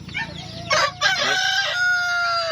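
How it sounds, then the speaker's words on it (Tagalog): A Brahma chicken crows nearby, one loud drawn-out cock-a-doodle-doo with a brief break before the long trailing call, over faint background noise. "Brahma chicken. The gentle giant."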